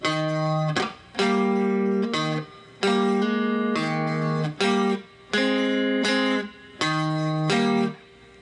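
An electric guitar plays the chord progression of a song, clean sustained chords strummed in repeated phrases separated by brief pauses.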